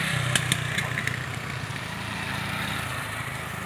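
A passenger motorcycle engine runs steadily and fairly close, a continuous mid-pitched drone with a few sharp ticks near the start and no talk over it.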